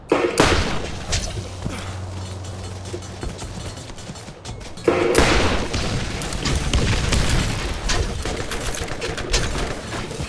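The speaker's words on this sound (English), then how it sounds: "Airburst mortar." Airburst mortar rounds bursting in Borderlands, two heavy booming blasts about five seconds apart, each followed by rumbling debris and scattered crackle, loud and close.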